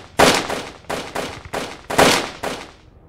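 Gunfire in the VR game Hand Simulator: six sharp, loud shots in a loose, uneven rhythm, each cracking out and then fading with a short, booming tail, with no talking over them.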